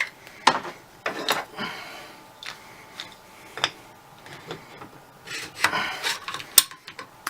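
A buttstock is worked off a CAR15 rifle in a string of sharp metallic clicks, knocks and brief scraping rubs, close up and irregular, with quiet gaps between.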